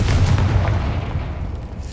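A Confringo fire spell going off in the video game Hogwarts Legacy, a loud, low booming blast that rolls on as a sustained rumble for about two seconds, with no voices.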